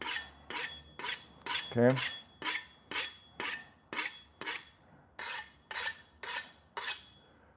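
Steel kitchen knives are drawn across a sharpener in a steady rhythm of about a dozen crisp, ringing scrapes, each rising and fading, with one brief spoken word early on.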